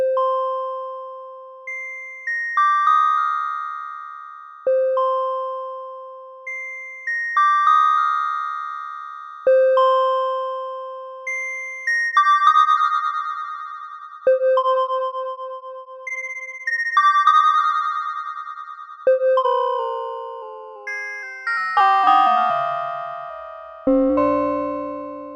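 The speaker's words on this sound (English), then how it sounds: "The feature I like the most about the Behringer Vintage is that the oscillators can be set to sine waves" The Behringer Vintage synthesizer plays sine-wave oscillator tones: clear, pure notes struck one after another in a repeating pattern, each decaying slowly, ending in a cluster of gliding, bending pitches. No voices.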